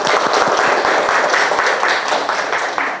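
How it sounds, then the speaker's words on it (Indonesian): Classroom of children applauding together after a call for a round of applause, a dense steady patter of many small claps close by that carries on for the whole stretch. "Tepuk tangan untuk kita semuanya."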